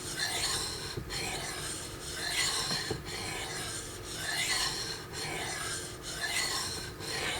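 A brand-new KN knife blade is drawn in repeated rasping passes across a sharpening stone, each stroke a steady gritty scrape in an even back-and-forth rhythm, close and clear with no talking.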